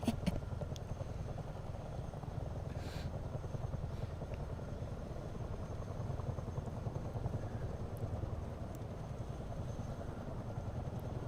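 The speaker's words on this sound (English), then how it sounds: "Some stellar control over this Chinook here down in this little ravine." A Chinook helicopter flying low through a ravine in the MSFS 2024 flight simulator gives a steady, loud rotor and engine drone that runs unbroken throughout, with no talk over it.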